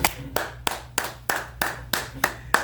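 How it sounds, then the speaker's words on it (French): A church congregation claps in unison, eight sharp, evenly spaced beats in a steady rhythm, with faint voices and a low hum behind them. "Bien-aimés, applaudissons au Seigneur Jésus"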